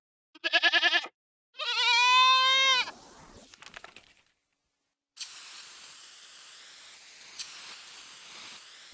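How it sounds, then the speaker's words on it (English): Goat bleating among farm animals: a short bleat, then a longer, wavering, nasal cry close by, followed by quieter rustle and a steady hiss-like background. "Goat."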